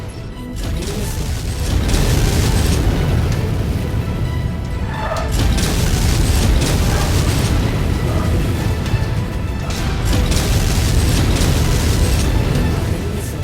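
Loud crashing missile explosions and clanking machinery during MechWarrior 5 Mercenaries combat, with a sustained rumbling low end and several sharp blasts standing out against constant battle noise.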